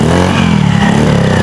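A Honda Beat FI scooter engine runs steadily at a smooth, even idle after CVT servicing, close up, with a continuous hum and no knocking or rattling.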